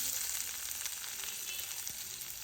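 Steady sizzling of chopped onions frying in hot oil, a constant bright crackle filling the clip without pause, close by and moderately loud, with no talking.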